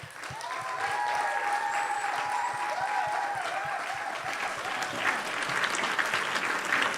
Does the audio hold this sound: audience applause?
yes